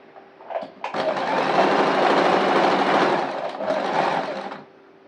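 A sewing machine stitches a kurti made from nighty material, running in a loud, close, steady whirring burst for about four seconds after a brief start, then stopping.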